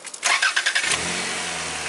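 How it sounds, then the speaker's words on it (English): A car engine cranks in a quick stuttering series, catches and settles into a steady idle, close by with no talking, before bleeding the power steering system. "first we need to start this car engine"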